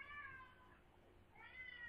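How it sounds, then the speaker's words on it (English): A house cat meows in two drawn-out calls with a gap between them, close by and moderately loud over low background rumble. "it's a cat"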